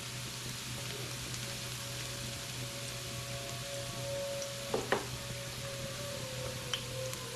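Squash sizzles in a hot pan as it toasts, a soft steady crackle and hiss with a low hum underneath and a few brief clinks near the end, no talking.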